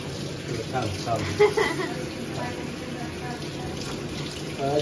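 Tap water runs steadily into a sink as hands are washed, a continuous wash of splashing with a few brighter drips, while people talk over it nearby.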